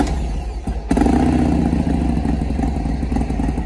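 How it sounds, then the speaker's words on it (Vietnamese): A Harley-Davidson 1200 Custom motorcycle engine, about 1000 km old, cranks and fires up, then settles into a loud, steady, rumbling idle close by. "Rồi, để mình nổ máy cho mọi người coi."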